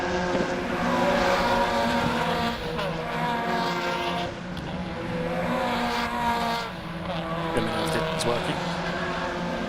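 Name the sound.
race cars braking at Cadwell Park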